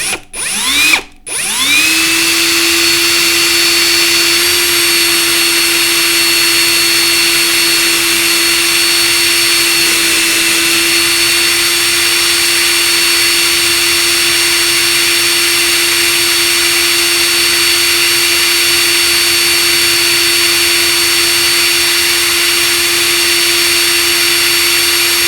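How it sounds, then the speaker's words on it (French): A hand-cranked neck turning tool shaving the neck of a brass cartridge case, producing a steady whirring, grinding drone that starts abruptly and runs continuously up close. "je viens entièrement de rectifier mon étui"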